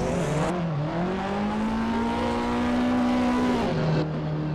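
BMW drift car engine screaming at high revs during a pro drift competition at Croix-en-Ternois, a loud sustained note rising and holding, then dropping briefly on transition, close and alone without talk.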